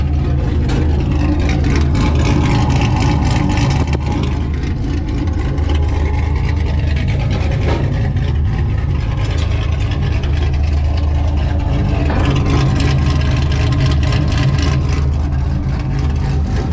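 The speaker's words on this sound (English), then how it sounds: "Don't mind the little exhaust rattle." A car engine runs steadily at a loud, close idle, its deep low rumble accompanied by a faint rattling buzz from the exhaust throughout.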